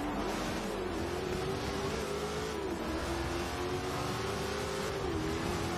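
A race car engine in Forza Horizon 2 holds a steady high-revving drone, loud and continuous throughout with slight pitch dips as it shifts, with no talking over it.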